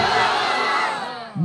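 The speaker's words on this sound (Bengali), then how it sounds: "আরো জোরে তাকবীর হবে" A large crowd at a religious gathering in Canning, West Bengal, loudly chants takbir together, one sustained swelling roar of many voices that fades slightly before a brief low thump at the end.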